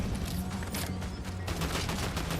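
Dense video game gunfire in Fortnite Battle Royale, a continuous loud fusillade of rapid shots with no gaps across the whole stretch.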